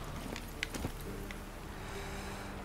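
Horse hooves in The Witcher 3 video game, a few faint, quick clip-clop strikes over a low steady background, without talk.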